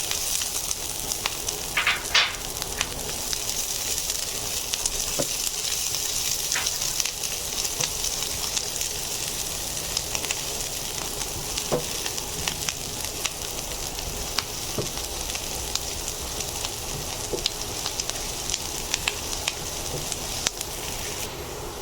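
Onions and green chilies are fried in a pan until lightly browned, making a steady, moderately loud crackling sizzle with small pops and occasional spatula scrapes throughout, no voices over it.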